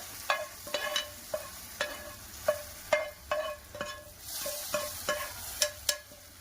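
Mustard seed tempering poured into sambar in a clay pot, a series of sharp clinks and scrapes from the clay chatti at a loose, irregular rhythm, close and fairly faint over a soft sizzle.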